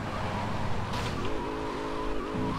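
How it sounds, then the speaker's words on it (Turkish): Car tyres screech and slide out of control in GTA Vice City Remastered, with a steady engine drone under a rising, wavering skid squeal that grows louder near the end. "Nasıl kaydı araba? Kontrol edemedim."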